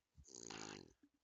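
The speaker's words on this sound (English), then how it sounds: "That's not a pig that I'm holding. That's my dog." A dog gives a single grunting, pig-like snort, a short rough rattling burst lasting under a second, followed by two tiny sniffs, very faint and close.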